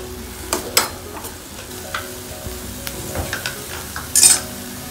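A spoon stirring soy sauce into vegetable hot and sour soup in a pan, with soft scraping taps and light clinks scattered over a faint simmering hiss, close and fairly quiet.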